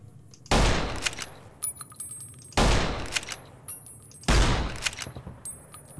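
Gunfire in the video game Fallout: New Vegas comes in three loud bursts of rapid shots, each followed by fading echoes and scattered smaller impacts.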